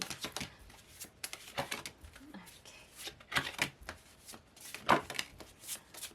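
Tarot cards shuffled by hand in repeated soft riffling bursts, close by, with one brief spoken word.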